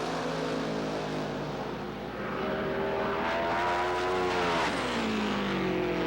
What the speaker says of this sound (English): Peterson and Beck in round number 1, Top Fuel Eliminator.